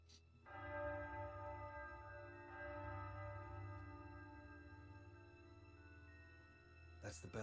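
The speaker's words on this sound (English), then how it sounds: "That's the bell at Ironstone." A deep bell at Ironstone in the video game Triangle Strategy tolls midnight, one resonant strike ringing out and slowly decaying over several seconds, with a second strike starting at the end.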